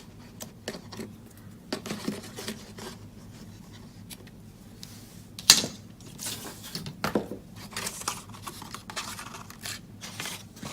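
Scissors snip the paper ends off a small handbag tag in a run of quiet, close cuts and paper rustles, with one sharper snap midway.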